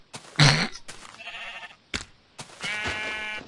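Cartoonish game sheep in Minecraft bleat several times in quick succession, short wavering calls that are clear and close.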